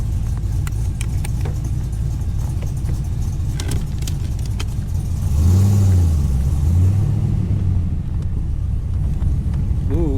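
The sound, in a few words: car engine running while driving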